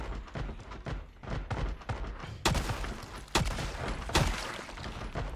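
Gunfire from a Project Zomboid game: a steady stream of rapid shots overlaps into a dense, close barrage for several seconds, with a few sharper, louder cracks standing out.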